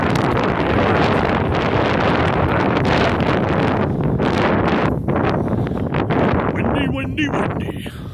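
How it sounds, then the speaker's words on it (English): Strong outdoor wind gusts batter the microphone in a loud, continuous roar with rumbling buffets and rustling, near and overwhelming, with brief voices faintly breaking through. "there's some wind."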